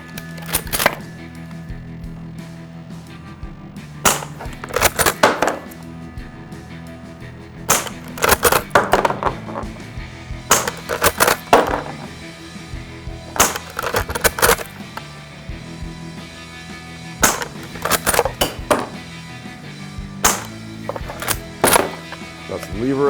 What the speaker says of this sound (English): That's the lever action